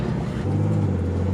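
A Nissan Skyline R33 fitted with an RB30 engine runs steadily and loudly up close, a deep low drone holding an even tone throughout with no talk over it.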